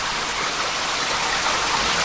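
Water streams and drips down into a caved-in section of an underground mine, a steady close splashing wash with no talk.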